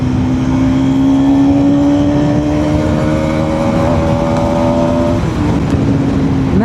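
A Bajaj Pulsar NS200 motorcycle engine idling and revving up close, a steady rising whine that holds, then drops off near the end.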